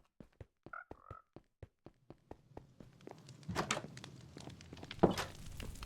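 Minecraft frogs croaking in a short series of evenly spaced clicks and croaks, followed by shuffling and crunching movement sounds at moderate volume.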